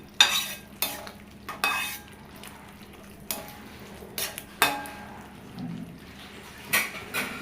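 Tomato paste with turmeric fries in oil in a pan for tomato rice, heard as a soft sizzle broken by repeated sharp spoon scrapes and knocks against the pan, close and irregular, with no voices.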